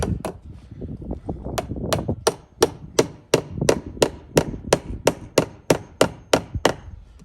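Staples hammered in to fasten electrical lines while relocating kitchen wiring: a steady run of about fourteen sharp, close hammer blows, loud and evenly spaced, with a dull knocking start before the rhythm settles.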